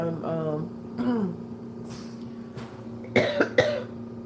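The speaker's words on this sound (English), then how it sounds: "I got this cough." A couple of short, harsh coughs near the end, following some quiet talking; close and fairly loud.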